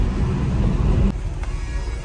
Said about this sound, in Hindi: ये देख लो क्या ट्रैफिक है